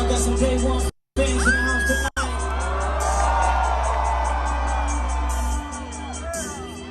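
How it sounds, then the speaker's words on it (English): A festival crowd cheers and whoops for a live performance, a loud sustained roar with music underneath and two abrupt dropouts early on, fading slightly toward the end. "just hear the fucking crowd. They are going crazy"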